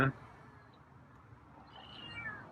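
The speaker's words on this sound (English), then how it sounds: "there's a couple meows" A feral cat meows softly a couple of times, faint and close, amid quiet room noise.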